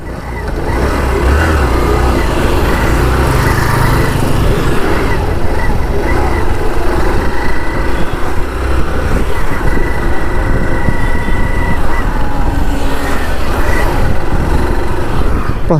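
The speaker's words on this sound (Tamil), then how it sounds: "நல்ல ஒரு ஸ்மூத்தியான ஒரு டைப் ஆஃப் என்ஜினாக இருக்குது." A 2025 Hero Super Splendor 125 Xtec motorcycle, BS6.2 and E20 compliant, running its engine in a steady, loud, smooth drone that holds constant for the whole stretch, with no distinct revs or breaks.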